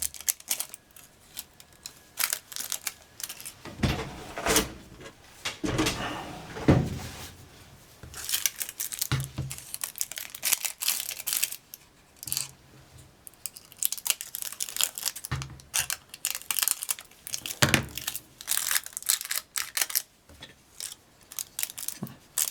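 Gold paper handled and crumpled up close, giving repeated crisp crinkling and rustling bursts with short pauses in between, no voices over it.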